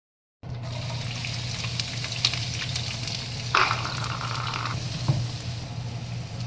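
Garlic and onion frying in a pan for crab sotanghon, a steady close sizzle with a low hum underneath and a few brief clinks and scrapes of stirring.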